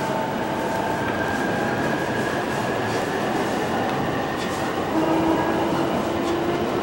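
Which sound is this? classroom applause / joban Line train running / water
joban Line train running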